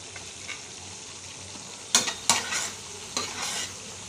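Laddu mixture stirred in a pan over low heat, a quiet low sizzle broken by a few sharp scraping strokes of the spoon against the pan near the end, close up with no voices.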